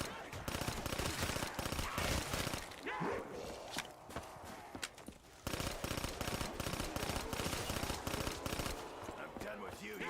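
Rapid bursts of automatic gunfire in Call of Duty Zombies, loud and near, rattling almost continuously with a brief pause midway, over game effects and footstep-like clatter.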